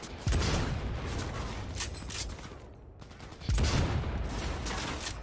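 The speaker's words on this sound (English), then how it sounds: "he just bounces back from a good old headshot and returns fire" Gunfire in Cyberpunk 2077 as an enemy military soldier returns fire: two loud bursts of shots about three seconds apart, each a sharp onset trailing into dense, crackling fire and echo, with no talk.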